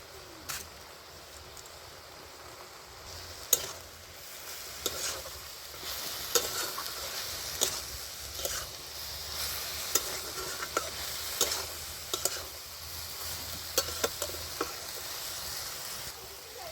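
Red amaranth greens cooking in a pan give off a soft, steady sizzle, broken by intermittent scrapes and taps as they are stirred, close but fairly quiet, with no voices.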